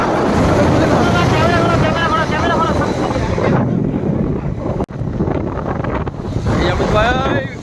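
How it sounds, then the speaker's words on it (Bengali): A motorbike races along a highway at high speed, heavy wind buffeting the microphone in a loud, constant roar, with a brief drop near the middle. "গাড়ি প্রচণ্ড স্পিডে চলছে"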